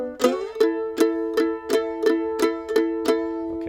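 A mandolin picks a tricky lick after a slide down, played on open G and fretted D-string notes as eight evenly spaced, bright plucked notes ring out alone, loud and close.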